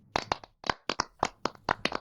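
Hand clapping from an online clap module, around ten sharp, crisp claps in a quick uneven rhythm, close and distinct with silence between them and no talk.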